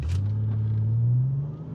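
A Ford Taurus SHO fitted with big turbos accelerating hard, a loud, close engine drone whose pitch climbs steadily as it pulls, with no talking.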